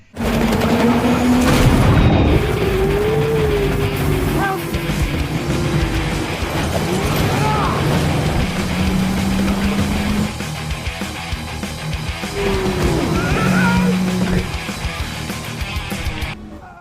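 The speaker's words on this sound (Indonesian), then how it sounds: "Kini Knox mencoba untuk melindas Dalton dengan speedboat yang dinaikinya" In a film scene, a speedboat races toward a person with a loud, sustained engine roar, rising and falling whines and heavy booms over a dense action soundtrack.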